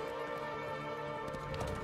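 Horse hooves in Assassin's Creed Mirage, a quiet rhythmic clip-clop running through a short stretch under ambient game noise.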